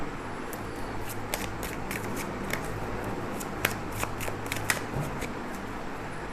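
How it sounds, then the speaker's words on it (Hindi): Tarot cards shuffled and drawn from a deck, a soft papery riffle with scattered sharp snaps and flicks close up over a low steady background hum, no speech. "अब हम लेंगे लास्ट डेक से कुछ कार्ड्स।"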